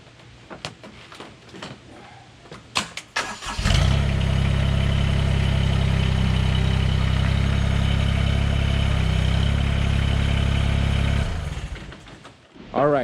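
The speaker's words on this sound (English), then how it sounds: "I'm just gonna back up the tractor a little." A tractor's diesel engine starts up and settles into a loud, steady idle while the machine backs up slowly, running close and continuous for several seconds before dropping off, with a few clanks around it.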